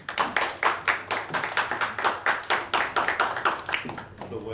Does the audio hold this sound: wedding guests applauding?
yes